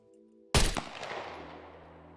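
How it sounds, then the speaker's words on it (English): A single sharp 9mm pistol shot in the SCUM survival game cracks loudly after a quiet lead-in, followed by a long fading echo and tail. "starting with the 9mm pistol"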